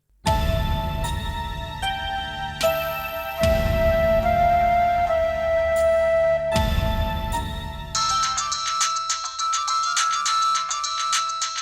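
An electronic ringtone plays loudly in a repeating melodic pattern, its tone changing partway through to a brighter, buzzier ring.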